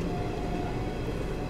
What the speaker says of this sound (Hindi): मालगाड़ी आगे निकल गई पैरेलल ओवरटेक मार के